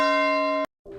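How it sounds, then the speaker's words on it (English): A single bell strike rings out with a bright, sustained metallic tone for over half a second, then cuts off abruptly before another soft tone begins; heard alone, without talking. "Welcome to your nightly bell healing session."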